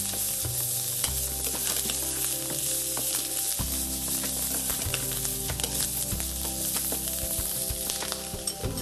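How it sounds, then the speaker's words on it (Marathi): Finely cut chicken pieces sizzle and fry with corn kernels in a pan, a continuous loud crackling sizzle with faint stirring scrapes, no voices over it. "त्याला थोडा आपण परतून घेऊया मक्याच्या बरोबर."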